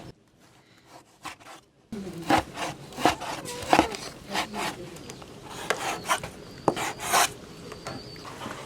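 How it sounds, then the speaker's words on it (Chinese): A knife slices pork into strips on a cutting board, a quick series of crisp, close cuts after a short quiet lead-in. "猪肉切成条儿"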